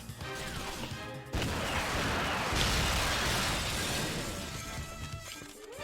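A grenade launcher fires in 007 Nightfire, a loud crashing blast with shattering glass that rings on at a steady level for several seconds.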